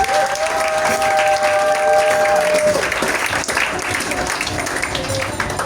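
A church congregation applauds with loud, sustained, dense clapping that holds steady throughout, with a ringing tone over the opening seconds and voices mixed into the crowd noise.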